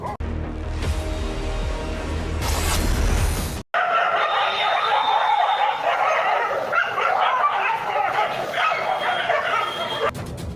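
Pack of ten to fifteen stray dogs roaming the lanes of Sambargi village, Athani taluk, heard as near, continuous yipping and barking with whimpers, after a short burst of other sound at the start.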